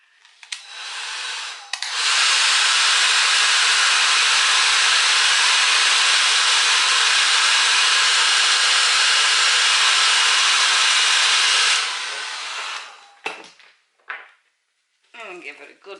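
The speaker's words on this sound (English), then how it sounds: "get the hair dryer." A hair dryer switches on and blows loudly and steadily for about ten seconds, then cuts off, followed by a few light handling noises.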